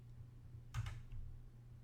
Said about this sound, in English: we're going to type in systemctl start mariadb